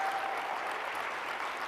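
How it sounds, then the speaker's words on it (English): Steady, dense applause from an audience honoring beta testers at a company product-update presentation, loud and continuous with no voices over it. "A round of applause for them again,"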